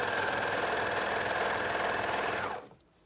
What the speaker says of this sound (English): sewing up to that underarm seam, and then I'm just going to match the hem edges and find the halfway point